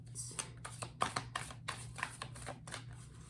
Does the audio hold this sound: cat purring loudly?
no